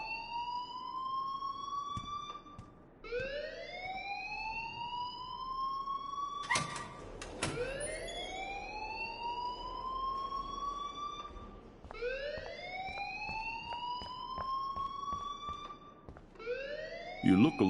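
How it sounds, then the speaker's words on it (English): An alarm in a video game wails repeatedly, sweeping siren tones rising in cycles every few seconds, moderately loud and continuous with a few clunks in between. "please turn off that alarm since that's your job"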